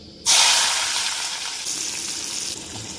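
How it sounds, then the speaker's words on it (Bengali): Chillies drop into hot cooking oil and burst into a loud, close sizzle that starts suddenly, then gradually settles into a steady crackling hiss, with no talk. "তেল গরম হয়ে গেছে, আবার লঙ্কা দিয়ে দেবো"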